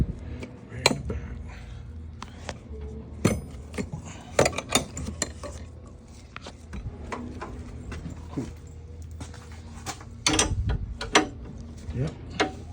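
A 17mm wrench turns bolts during a Honda transmission swap, with scattered close metallic clicks, ratcheting and clanks of tools against metal at an irregular pace, and a few low voices in between.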